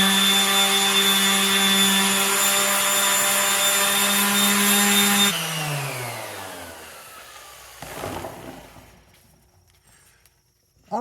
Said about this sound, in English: So now we just need to sand it all down and see what we have to work with.